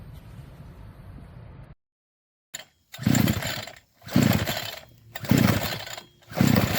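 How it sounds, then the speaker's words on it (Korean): A two-stroke brush cutter engine, first idling low, goes briefly silent before sputtering into a series of loud, close revving bursts with short gaps between them, each surge rising sharply and then easing off. "오늘 이행정 예초기 시동 거는 법을 배웠습니다."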